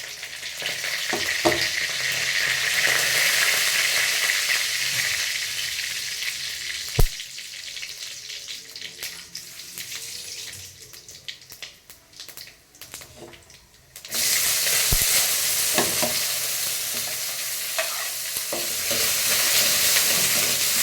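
Whole spices, including fennel seeds, frying in hot oil in a pan for a carrot, beans and potato kurma. A steady, loud sizzle runs throughout with a couple of sharp knocks, briefly softening mid-way before surging again, with no talk.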